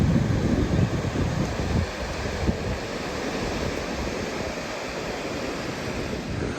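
Ocean waves wash onto a beach in a steady, broad roar, mixed with gusty wind buffeting the microphone, with no talking.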